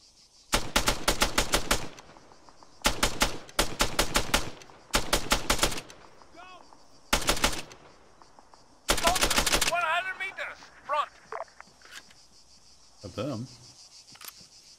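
Soldiers lay covering fire in Arma 3 Antistasi with rapid bursts of automatic gunfire, several separate volleys and a longer stream, then scattered single shots while insects chirp in the background and voices call out.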